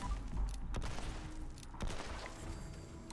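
Bloodied explosive single action revolver shots in Fallout 76 land as a quick series of heavy, booming reports over a rumbling game background, the blasts spaced irregularly and fairly muffled.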